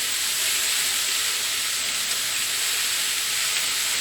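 Chopped vegetables sizzling in hot oil in a pan for chili, a steady bright hiss that holds constant and close throughout.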